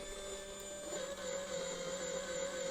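A steady mechanical whir from a small motorized egg decorator machine running continuously, with a constant tonal hum and no voices.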